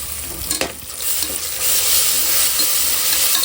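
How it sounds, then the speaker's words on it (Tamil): Onions frying with ginger garlic paste in a pan, a loud, dense sizzle that builds and holds steady, with a couple of brief stirring knocks near the start and no voices. "வெங்காயம் வதங்கிடுச்சு வெங்காயத்தில் நான் இஞ்சி பூண்டு போட்டுக்கிறேன்"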